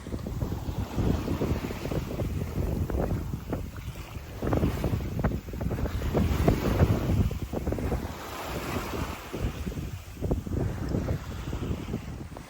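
Wind buffets a microphone aboard a 9m sailboat beating upwind, with gusty low rumble and rushing water along the hull, continuous and fairly loud with no voices.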